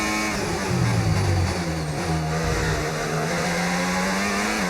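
A Formula 1 race car in the F1 25 video game accelerates hard, its loud, close engine whine climbing steadily in pitch, with a brief shift dip before rising again. No one speaks.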